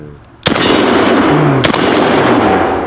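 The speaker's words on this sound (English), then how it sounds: "I'm going to shoot the cowboy" Two loud, close blasts from a DP-12 pump shotgun, about a second apart, each with a sharp crack and ringing tail over outdoor background noise.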